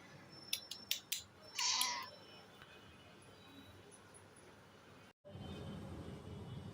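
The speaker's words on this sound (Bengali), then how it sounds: "আর ম্যাও ম্যাও করতেছে।" A tuxedo cat meowing several times close by, a quick series of short cries followed by a longer drawn-out meow, then quiet room noise and a louder hum after a brief dropout.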